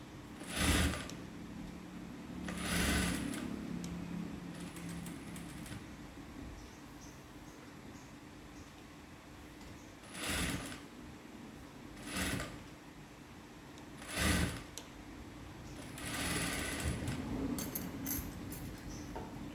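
A sewing machine stitches a blouse in several short bursts of rapid mechanical whirring, separated by quieter pauses with faint handling clicks and rustles, close and moderately loud, no speech.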